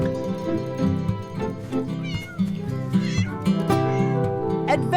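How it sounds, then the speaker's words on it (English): A cat meows repeatedly in an animated adventure about delivering a medical kit to an ocean camp, the calls mixed over continuous music. "Meow."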